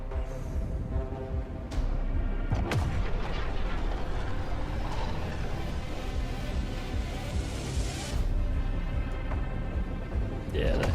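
Turret gunfire in a video game, a steady dense barrage of booming shots and rumbling impacts running throughout, loud and close, with voices talking over it.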